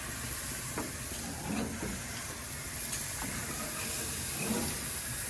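Hamburger patties frying over a firewood cooking fire, a steady close sizzle and hiss that runs on without a break, with faint crackles now and then.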